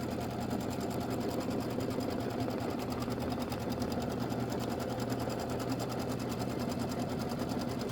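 A sewing machine stitching a quilted Christmas wall hanging, a steady, even mechanical hum with fast regular needle ticks running without pause, close but fairly quiet.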